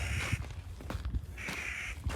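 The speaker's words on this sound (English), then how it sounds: "A lot of bird yapping going on." Crows caw outdoors on a mountain trail near Glen Pass, two harsh drawn-out calls a second apart, fairly near and moderately loud over low rustling and footsteps, with no talk.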